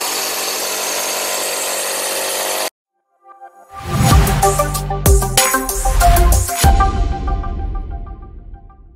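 Mollar 12-volt cordless impact driver CIDR12150U running in loud bursts, starting and stopping several times with short gaps, close and alone after a brief stretch of steady noise.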